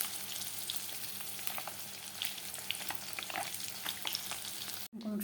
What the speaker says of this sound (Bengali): দেখো ডিম ভাজা হয়ে গেছে।